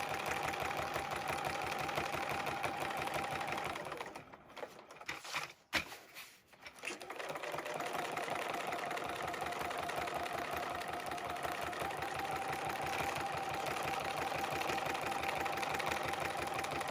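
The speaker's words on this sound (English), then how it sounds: "I come back and satin stitch everything down" A sewing machine satin stitching a quilt runs in a dense, steady mechanical whir for most of the stretch, pausing briefly in the middle before resuming, close and loud with no voices.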